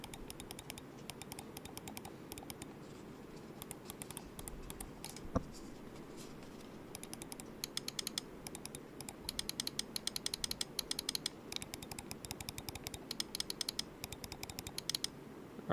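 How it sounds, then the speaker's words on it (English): A computer keyboard clicks in quick, irregular bursts of keystrokes throughout a gaming session, quiet and close, over a low steady background hum. "You guys can hear the clicking way more than you can on this one."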